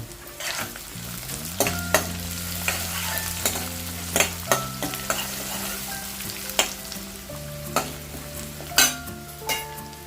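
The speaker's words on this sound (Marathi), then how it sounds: "कढीपत्ता घेतला आहे तो घालूया" Curry leaves dropped into hot oil for a Marathi-style rajma aamti crackle and sizzle steadily, with sharp spoon clinks against the pan punctuating the frying every second or so, close and fairly loud.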